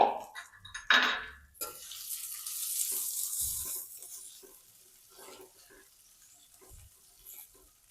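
Ivy gourd (tindora) drops into a hot pan with a few sharp clanks of utensil on metal, then a sustained sizzling hiss of frying that slowly settles, with light stirring taps.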